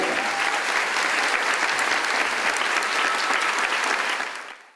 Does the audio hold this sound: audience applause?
yes